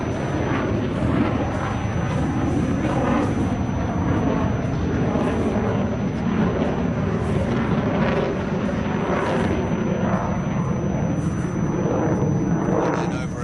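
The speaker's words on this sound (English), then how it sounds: "then watch, we'll see the power come onto the aircraft, then he'll drop the nose and then return the airflow back over the wing" A Pakistan Air Force JF-17 Thunder fighter jet powering up during a Dubai Airshow display, a loud, steady, roaring jet rumble that fills the whole stretch without a break.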